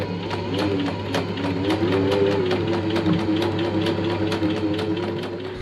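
Sewing machine hemming a duvet cover, a loud continuous motor whir with a rapid rhythmic needle ticking running close and unbroken throughout.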